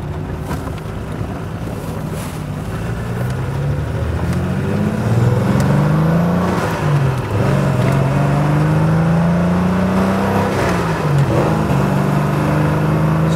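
A Triumph GT6 MkIII classic car engine on a spirited drive, droning loudly as it revs up, dipping briefly at a gear change and climbing again, with heavy wind noise.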